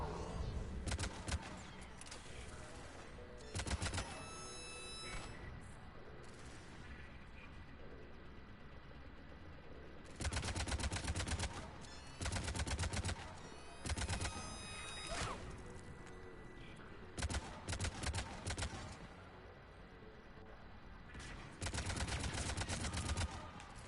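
Sniper gunfire in the Mass Effect 3 game comes in loud, sharp bursts of shots at uneven intervals over a low battle backdrop.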